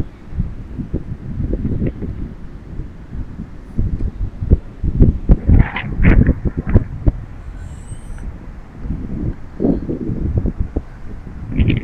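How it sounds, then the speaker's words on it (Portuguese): Gusty windstorm pounds the microphone with irregular low rumbles and bursts, strongest in the middle, during an extreme FPV drone test outdoors; a brief faint higher tone appears briefly. "O vento tá bem forte, não sei se vai atrapalhar aí o áudio."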